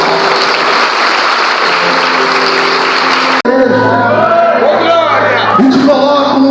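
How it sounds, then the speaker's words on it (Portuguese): Applause from the congregation at an Assembly of God vigil in a cathedral, loud sustained clapping, then cutting to a busier mix of crowd noise, shouts and voices. "Uma salva de palmas para ele, por favor."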